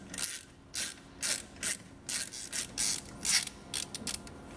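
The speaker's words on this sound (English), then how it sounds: "you're going to need a 7mm Allen key adapter, or a hex adapter, I guess. Get those loose." A ratchet fitted with a 7mm Allen adapter loosens the caliper slider bolts on a Jeep WJ, giving about a dozen short bursts of clicking, close up and crisp, with brief pauses between them.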